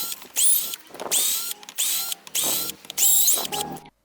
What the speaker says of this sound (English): I'll unscrew it first.